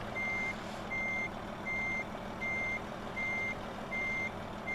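A 44-ton truck reversing in a trucking video game, its backup alarm giving steady, evenly spaced beeps about every three-quarters of a second over a low engine hum, clear and moderately loud with no talking.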